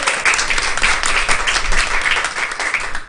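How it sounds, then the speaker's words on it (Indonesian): A church congregation applauds at a worship service, a dense, steady wash of many hands clapping that fills the whole stretch at full volume with no pause. "Tepuk tangan untuk Tuhan Yesus."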